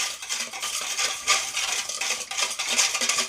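Batter for besan sev being stirred in a bowl, mixing gram flour with hing, red chilli powder and salt: a steady scraping, clinking stir in uneven strokes, close and fairly quiet, with no voices.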